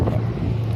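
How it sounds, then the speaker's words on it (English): A car passes on a city street in an Indianapolis neighborhood, a steady close low rumble with some wind buffeting throughout the brief moment. "You gotta wait for the cars."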